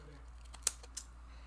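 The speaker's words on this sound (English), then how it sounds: "It's just easier on the edges to use the scissors to just rough it up a bit." Fiskars decal scissors snip paper edges in two or three quick, faint clicks over a low steady background hum, with no voice.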